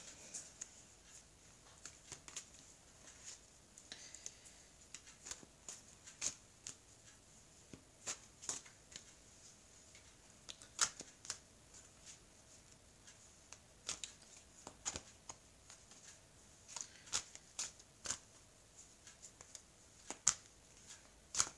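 Oracle cards being shuffled by hand in a quiet room, a long series of faint, crisp riffles and taps in irregular bursts, soft and close, with no talking over them.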